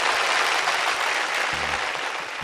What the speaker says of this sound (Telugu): Claps and join them.